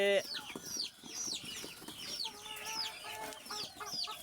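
Native village chickens clucking repeatedly at close range, several birds calling in short overlapping bursts with scattered higher chirps and a busy farmyard background.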